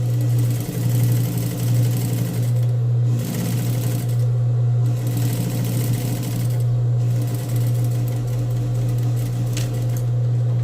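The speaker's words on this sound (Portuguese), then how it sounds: "bota a máquina num ponto de pesponto, que aqui no meu caso é número 4" A sewing machine running a topstitch on lining fabric, a steady low hum under fairly loud, continuous whirring with a few brief dips, no voices.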